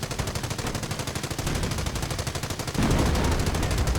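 Rapid machine gun fire from a World War II strategy game battle, a steady fast rattle that grows louder and denser partway through, with no talk over it.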